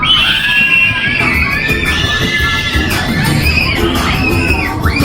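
Riders on a fairground Waltzer scream together, a continuous loud crowd of shrieks and high yells over the ride's noisy music and rumble, heard from the center of the ride.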